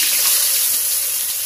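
Long-cut sliced potatoes drop into hot oil already frying with whole cumin, garam masala and cardamom, letting out a brief, bright hiss of sizzling that stays strong and steady.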